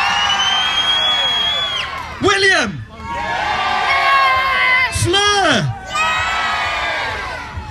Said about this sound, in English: scream, shout, cheer now!